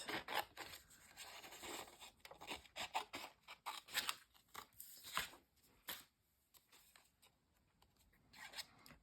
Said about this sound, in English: And we will just cut this out.